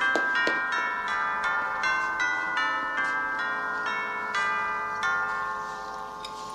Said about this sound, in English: Hear the bells are ringing, Bill.